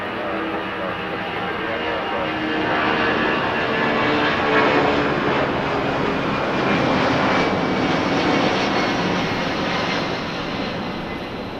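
An airliner arriving at LAX on runway 6 during a storm watch, its engines a loud, steady broadband roar that swells and holds for about twelve seconds with no voices.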